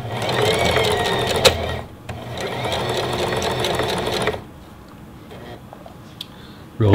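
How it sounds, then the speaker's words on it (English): A Singer Heavy Duty sewing machine runs a straight stitch, its fast, steady mechanical whir loud and close for about four seconds with a brief pause midway, then stopping abruptly into quiet room tone. "let's try to go back to a straight stitch now. See if it handles that okay."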